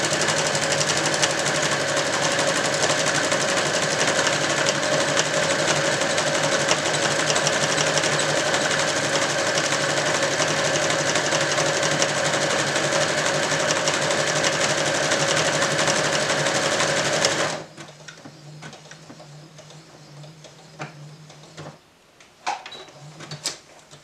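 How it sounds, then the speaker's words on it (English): A sewing machine runs fast and steadily for about seventeen seconds while a 1930s-style dress is sewn, a close, loud mechanical whir that then stops, leaving quiet handling clicks and taps. "so let's do some speed sewing!"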